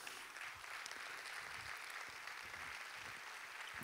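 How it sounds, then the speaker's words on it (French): A faint, distant patter of audience applause for a film award winner at a closing ceremony, steady and even throughout. "vous pouvez encore l'applaudir une fois"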